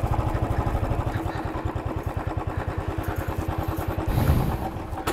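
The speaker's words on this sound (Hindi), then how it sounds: "यहाँ पे बाइक खड़ी करते हैं छाव में।" A motorcycle is ridden at low speed and brought to a stop for parking in the shade near a temple. Its engine thuds in a steady mid-pitched rhythm, with a brief clatter near the end. No one speaks.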